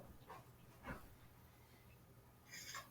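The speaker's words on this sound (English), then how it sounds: "Again, I apologize for my dog." A dog gives a few short yips and whimpers in the background of an online presentation. The sounds come in brief, faint bursts over a steady low hum.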